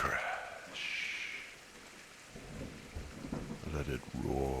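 A thunderstorm with rolling thunder and falling rain, the rumble building toward the end over a continuous hiss of rain, moderately loud and close.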